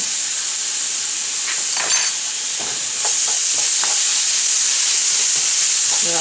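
Bottled minced garlic, about three or four cloves' worth, sizzles in a hot pan with a loud, steady hiss, broken by light scrapes and taps of stirring up close, and nobody speaks.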